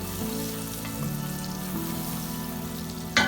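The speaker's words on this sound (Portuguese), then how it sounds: "Nós iremos iniciar dourando essa cebola." Chopped onion browning in butter in a pan, a steady close sizzle of frying under a low hum, ending with a brief sharp clatter.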